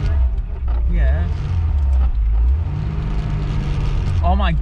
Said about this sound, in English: I'm driving a Ford Cortina.